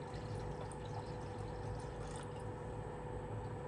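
Fish broth pours steadily into a cooking pot, a continuous close liquid rush with a faint gurgling texture running the whole stretch, no voices.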